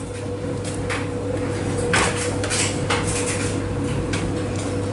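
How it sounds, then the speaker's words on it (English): A Speed Queen front-loading washer door being shut, a few clunks and latch clicks over a steady low machine hum, close and moderately loud. "so I'll just shut the door."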